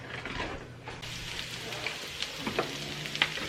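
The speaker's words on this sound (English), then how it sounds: "We're gonna add some onions. And we're gonna let that saute for a few minutes." Onions sauteing in a hot pan give off a soft, steady sizzle and crackle, faint and close, with occasional stirring clicks and scrapes and no talk over it.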